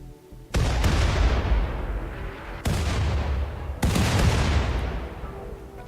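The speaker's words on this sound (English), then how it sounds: "Those grenades are loud as hell." Grenades exploding in the RimWorld video game: three loud, booming blasts spaced a second or so apart, each with a long rumbling tail that fades before the next hits.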